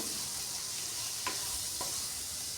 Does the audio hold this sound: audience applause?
no